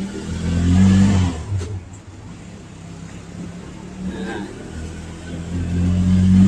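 A tricycle running behind a Rusi Caruza 200i on a neighborhood road near a school, a low steady engine drone with some rising revs, moderately close, with no talking over it.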